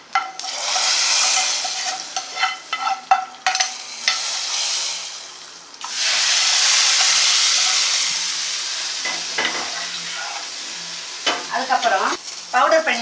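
Asafoetida powder goes into a pot of sambar on the stove, bringing bursts of sizzling and hissing steam along with scraping stirring sounds that swell and break off several times, close and fairly loud, with no talking.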